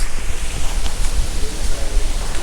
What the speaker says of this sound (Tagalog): Yay, ang lakas ng hangin.